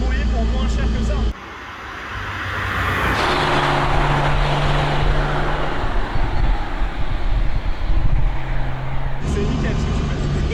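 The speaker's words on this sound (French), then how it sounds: "Le 6 cylindres avec le bruit un peu métallique" BMW E30 330i six-cylinder custom Rocket Bunny build driving, a steady engine drone with road and wind rumble throughout and a gear change, heard from inside under people talking.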